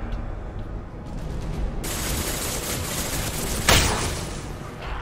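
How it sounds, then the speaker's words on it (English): Impact shot gunfire in Mass Effect 2 comes as a sustained burst of dense, crackling combat noise that swells sharply near the end, loud and close with no speech over it. "Firing an impact shot!"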